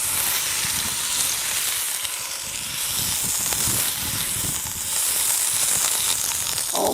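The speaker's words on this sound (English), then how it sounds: "And what I'm going to do is sear this on both sides." Prime rib sears in a hot Dutch oven, giving a loud, continuous sizzle and hiss of fat and meat that holds steady throughout without any voices.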